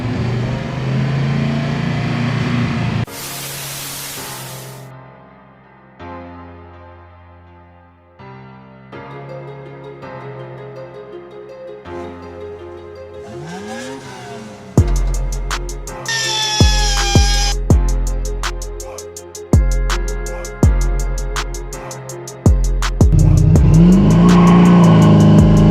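Engine of a swapped El Camino revving repeatedly as gas is given, loud sharp bursts rising and falling in quick succession, close by with a few clanks between pulls.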